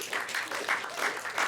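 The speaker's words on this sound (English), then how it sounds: "Give them a round of applause." A comedy show crowd applauds a couple in the audience, giving brisk, full, steady clapping that fills the room from start to finish.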